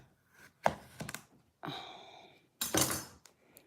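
A cheese knife slices through food on a board with several soft, close chopping and scraping strokes separated by short pauses, quiet overall.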